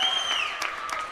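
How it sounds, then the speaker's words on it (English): A volleyball coach clapping her hands during a timeout at a high school girls' match, a quick run of sharp claps over gym noise and faint voices. "Yvette comes clapping her hands."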